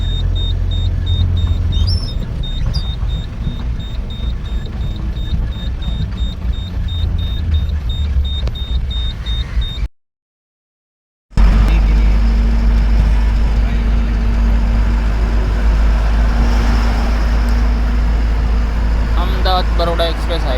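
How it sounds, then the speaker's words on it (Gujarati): Traffic at a toll plaza on the Ahmedabad–Vadodara expressway, heard from inside a truck as a steady, loud engine and road rumble, with a brief dropout midway and a few faint beeps. "ટોલ ટેક્સ ટ્રાફિક છે."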